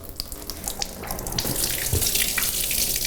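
A bathtub faucet runs at low flow into a tub, with a trickling, splashing stream that grows slightly fuller and steadier after the first second, close by and heard alone.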